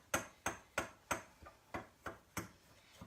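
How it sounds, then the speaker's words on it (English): A fork whisks pancake batter in a bowl, producing sharp clinking taps in a regular rhythm of about three strokes per second, close and fairly quiet. "let me just grab a fork and mix this up"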